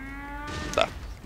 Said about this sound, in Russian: Мычащий робот.